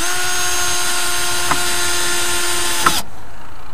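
A power drill whirs steadily for about three seconds, driving a screw into wooden boards, with a couple of small knocks before it stops, close and loud.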